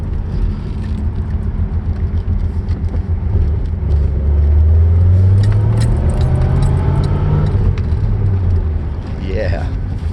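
A 1981 Chevrolet Corvette circles a parking lot, its engine humming low, then rising in pitch as it accelerates midway, with road and wind noise and a voice over it.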